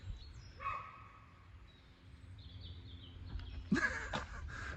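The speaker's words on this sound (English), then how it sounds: "Oh no, the dog is chasing the horse." Out in the English countryside, a dog gives several short, faint barks from a distance as it chases a horse, with birds calling softly in the background.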